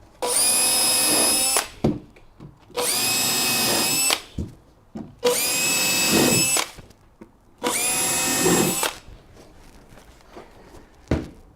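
A power drill whines in four long bursts, each a couple of seconds, biting into a wooden stair tread with quiet pauses and light knocks between.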